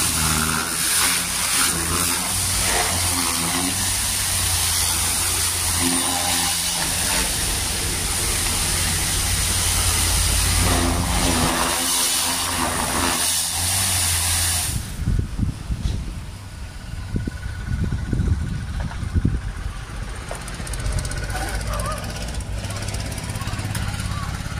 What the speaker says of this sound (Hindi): तो देख सकते हैं इसमें हमने टर्बो का, आप लोगों ने आवाज़ तो सुना ही होगा कितना खतरनाक आता है